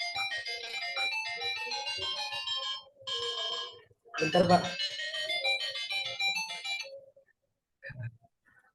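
A phone ringtone plays a repeating electronic melody for several seconds during an online cryptography class, then cuts off; a person speaks briefly as the ringing stops.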